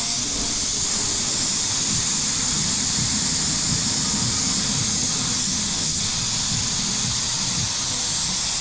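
A spray gun applies polyester primer in a steady, loud, continuous hiss that holds unbroken from start to finish.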